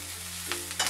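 Green chillies roast in a pan and are stirred for Maharashtrian thecha. A faint, continuous hiss carries a few soft scraping stirs in under a second.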